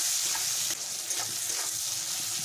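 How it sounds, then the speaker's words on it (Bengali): Chopped onions and bay leaves sizzling steadily in hot oil for an old-style Bengali chicken curry, with soft stirring scrapes under a constant frying hiss. "দুটো তেজপাতা দিলাম কেটে রাখা পেঁয়াজটা দিয়ে দিলাম"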